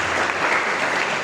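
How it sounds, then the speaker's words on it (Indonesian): A church congregation claps together during a Sunday service, a dense, steady, fairly loud round of applause filling the room without a break. "Yang setuju tepuk tangan baik-baik."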